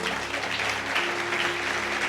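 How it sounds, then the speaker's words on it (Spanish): Church congregation applauding at a fourth-anniversary service, a steady dense wash of clapping throughout with faint background voices mixed in. "Denle un aplauso al Señor."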